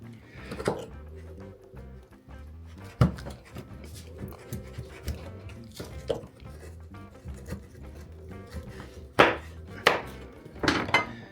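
A Yakut stroganina knife slices frozen raw liver fresh from the freezer, giving a series of sharp, crisp cutting knocks at irregular intervals, several louder near the end, close up.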